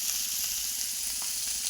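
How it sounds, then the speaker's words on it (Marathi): Bitter gourd sizzles steadily in a pan as crushed peanuts are tipped in, a constant close frying hiss with faint stirring scrapes and no talk. "बघा शेंगदाण्याचं कूट टाकते."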